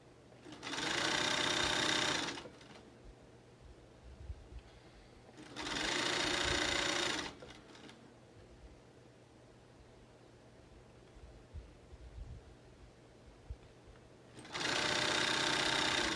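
Sewing machine stitching a fabric mask with ties, running in three loud bursts of about two seconds each separated by quieter pauses with faint handling noises.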